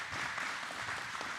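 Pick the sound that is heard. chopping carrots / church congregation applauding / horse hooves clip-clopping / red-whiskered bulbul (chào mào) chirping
church congregation applauding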